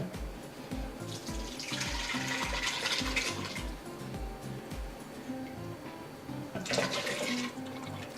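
Soaked jaggery water is poured into Ugadi pachadi, the festival chutney, as a soft, steady splashing and trickle that stays quiet under rhythmic background music.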